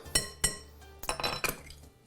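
A spoon clinks and scrapes against a bowl while a chicken marinade with orange is mixed, with a couple of sharp ringing taps followed by a quick run of close clattering strokes.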